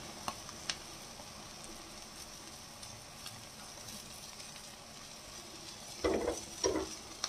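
An egg omelette fries in a pan with a steady low sizzle throughout, two louder bursts of scraping and sizzling near the end, and no talking.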